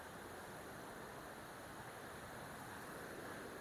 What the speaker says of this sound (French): Et le bruit de la mer nous fait du bien.